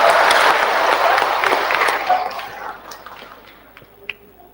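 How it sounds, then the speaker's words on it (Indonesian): Audience applause at a teachers' training session on the PJOK physical education curriculum, a dense clatter of clapping that fades over a few seconds to a few scattered claps. "Tepuk tangan buat beliau."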